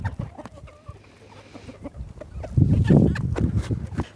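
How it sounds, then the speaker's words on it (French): Retired laying hens on a farm clucking and murmuring, with a few higher calls, then a louder burst of clustered clucks close by. "ça, c'est les poules de réforme"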